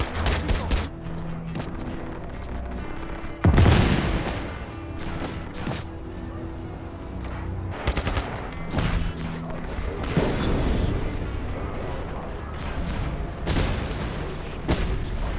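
Bursts of gunfire and explosions from the Just Cause 3 video game, with rapid shots, a heavy boom and scattered blasts continuing throughout over a steady game background.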